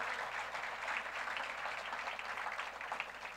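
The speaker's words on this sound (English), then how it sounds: "yes, applause." Quiet, steady applause from an audience at a manufacturing excellence awards ceremony, heard at a distance and continuing evenly for a few seconds.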